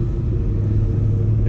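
A Ford SVT Cobra with a Flowmaster axle-back exhaust rumbles close by in a low, burbling drone, steady and heavy with deep pulsing tones and no voices.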